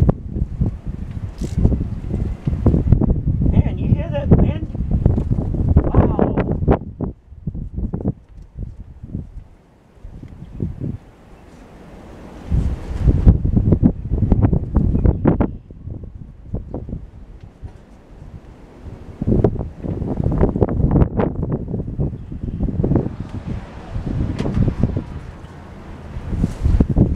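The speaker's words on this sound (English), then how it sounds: "man, you hear that wind?" Strong outdoor wind gusts buffet the microphone near a parked van in loud, uneven rumbling bursts separated by brief lulls.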